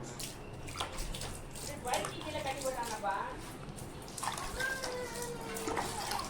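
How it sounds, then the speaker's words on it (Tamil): Water is sprinkled over grape cuttings planted for rooting in a garden, giving a steady, soft splashing and trickling that runs throughout, with a voice talking over it. "எல்லாத்தையும் தண்ணி தெளித்து விட்ருக்கேன்."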